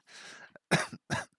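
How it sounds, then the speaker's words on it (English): A person coughs indoors, first a breathy throat rasp and then two sharp, close coughs in quick succession. "I thought I was gonna cough, then I didn't cough, and then I coughed."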